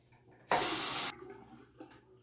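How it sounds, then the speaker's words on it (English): A bathroom faucet runs to rinse a razor during a wet shave, a sudden loud gush lasting about half a second before cutting off, followed by faint splashes and a small drip. "Just had to rinse the razor."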